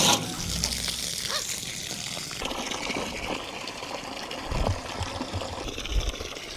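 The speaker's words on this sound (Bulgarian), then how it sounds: "Водата не се вижда, но се чува в момента." Running water released on a farm, a steady broadband rush and trickle that holds throughout at moderate level with a few louder surges, no voices over it.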